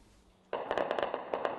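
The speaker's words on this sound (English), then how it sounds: "Gunfire echoes across the Syrian capital" Gunfire in the suburbs of Damascus, the Syrian capital, as government troops retake control: a burst of sharp, rapid cracks and pops. Some shots are close together and some more spaced, and they echo after a quiet start.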